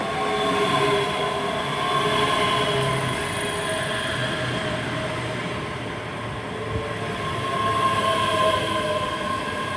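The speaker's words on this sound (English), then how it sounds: "Coming in now is the 1038 service heading for Edinburgh Waverley on a service that started at Glasgow Queen Street." A ScotRail class 385 electric train pulls into Haymarket station, its wheels and traction motors rumbling loudly and steadily nearby, with high whining tones sustained throughout.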